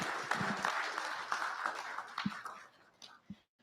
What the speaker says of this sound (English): I think we can give him a round of applause for that lovely rendition.